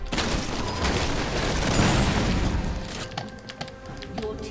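In League of Legends, the champion Graves fires his shotgun in a dense burst of booming blasts and crashing game effects, loud and close, which then thins into scattered sharp hits and clicks.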